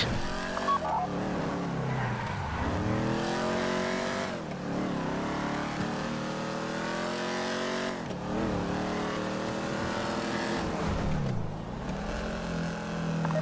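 A car driving in a heist game, engine revving up and down in repeated rising sweeps with brief dips between shifts, steady and fairly close, with no talk.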